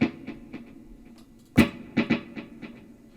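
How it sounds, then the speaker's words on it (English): An electric guitar played through parallel dotted-eighth and quarter-note delays picks out a few clear notes, each followed by softer repeating echoes that trail off. "You get both delays working in tandem, in parallel, and it creates a nice effect."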